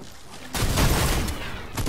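Shotgun blasts in Fortnite, a sudden loud broadband burst after a quiet start, followed by a sustained rattle of gunfire and a second sharp shot near the end.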